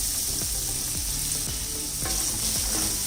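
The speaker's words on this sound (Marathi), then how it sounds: "कांदा जरा मऊ होईपर्यंत परतून घ्यायचा" Finely chopped onion sautéing in oil with curry leaves and small green chillies for bread upma, a loud, dense, continuous sizzle with occasional soft scrapes of stirring, close up.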